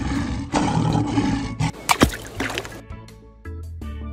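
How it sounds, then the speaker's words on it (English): A lion roars loudly and close, a heavy rumbling call followed by a sharp noisy burst and then lower grunting pulses trailing off. "Lion."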